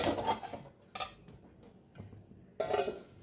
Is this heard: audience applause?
no